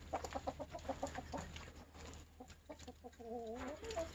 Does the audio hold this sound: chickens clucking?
yes